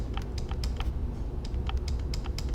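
Close computer keyboard typing: a string of crisp, evenly spaced key clicks at a moderate pace, alone over low background rumble with no speech.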